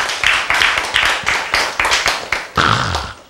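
Rhythmic hand clapping from a church congregation during a sermon, a steady train of sharp, evenly spaced claps at moderate volume with no talk.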